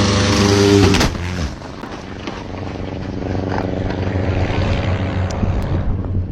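A low droning airplane engine hums loud and steady, with a rough rumbling tone that dips briefly after a second and then builds back up through the rest of the clip.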